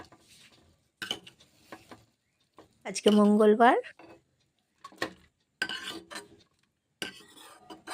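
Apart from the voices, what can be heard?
cooking and stirring radish greens fry in a pan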